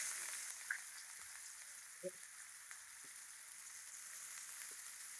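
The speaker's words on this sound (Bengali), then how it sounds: "পেঁয়াজ ভালোভাবে ভাজা নেব" Sliced onions frying with salt in a karahi of oil left over from frying fish, a faint, steady sizzle with a few soft clicks and pops, heard alone without voices.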